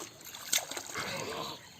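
A woman dipping down into river water, a short sharp splash followed by sloshing and trickling, close and brief, then quieter running water.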